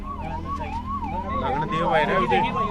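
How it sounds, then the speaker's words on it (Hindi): An ambulance siren wails in a steady rising-and-falling pattern as the vehicle arrives at a farmers' protest sit-in at the Narwana toll plaza, loud and close, with traffic rumble underneath and faint voices in the background. "किसान धरना पर एक एम्बुलेंस आई है"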